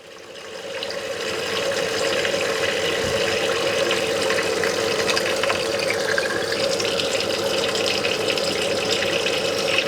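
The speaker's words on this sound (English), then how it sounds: "Turn the water back on." Tap water pours steadily into a fruit and vegetable washer holding blueberries, a continuous close splashing rush that builds in the first second or two and then holds loud and even.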